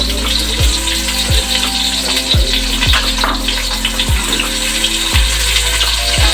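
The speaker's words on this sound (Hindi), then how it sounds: "अब हम इसमें ऐड करेंगे प्याज, और प्याज को अच्छे से फ्राई करेंगे" Onions fry in half a cup of hot oil in a pot, giving a steady bubbling sizzle with regular low thumps and a constant hum beneath, close and fairly loud.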